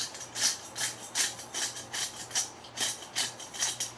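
A hand pepper grinder is twisted over coleslaw dressing in a home kitchen, giving a rhythmic series of close, gritty rasping crunches, about three per second, with no talking.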